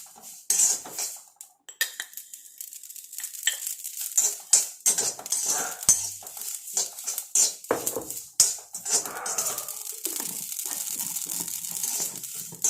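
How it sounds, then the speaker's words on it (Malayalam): Two large spoons of mustard seeds popping in a hot pan while a homemade natural hair dye is cooked: irregular bright crackles and spits patter on and off, mixed with metallic clinks of a utensil against the pan. "കടുക് പിന്നെ ചൂടായി കിടക്കുന്ന ചട്ടിയിലായതുകൊണ്ട് വേഗം തന്നെ പൊട്ടിക്കോളും"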